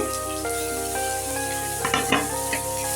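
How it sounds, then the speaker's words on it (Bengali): Chopped garlic, ginger, onion and spring onion drop into hot oil and fry with a bright, continuous sizzle, with stirring scrapes and pan clatter growing near the end. "তেল গরম হয়ে গেল এবারে দিয়ে দিচ্ছি রসুন কুচি আদা কুচি পেঁয়াজ কুচি পেঁয়াজ কলি কুচি"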